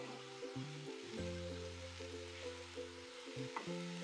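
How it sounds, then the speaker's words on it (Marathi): Sugar is stirred into carrot halwa in a pan, giving a soft, steady sizzle and scraping stir at close range. A low instrumental tune plays underneath. "साखर घालून मिक्स करून घेऊया"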